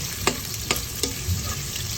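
Ginger frying in a pan for Filipino adobo, a steady sizzle with a few sharp stirring scrapes against the pan, close and alone with no talking.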